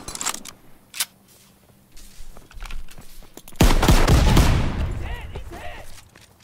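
A loud weapon in a Call of Duty WW2 match fires a few sharp shots, then lets go a heavy, sustained burst that rings out and decays. Faint game chatter and footsteps sit underneath.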